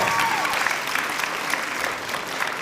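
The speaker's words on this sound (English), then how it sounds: "Let's have a nice round of applause on that" An audience at a high school event applauds steadily and loudly throughout, a dense wash of many hands clapping with no pauses or voices.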